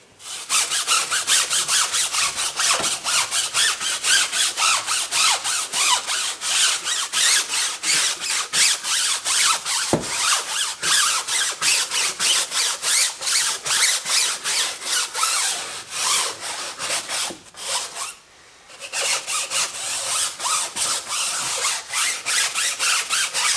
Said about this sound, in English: we've got the tire scrubbed down